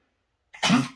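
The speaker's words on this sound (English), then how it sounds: "She might cough afterwards, or she might prove me wrong like she did" A dog's single short, raspy cough after drinking bursts out after a moment of silence, close and fairly loud, with a harsh throaty quality.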